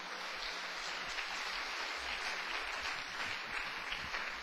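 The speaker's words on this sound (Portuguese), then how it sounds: "Quem pode dar uma salva de palmas para o Senhor Jesus?" Congregation applauding in praise at a church service, a steady dense wash of clapping that stays even and fairly faint throughout, with no voices standing out.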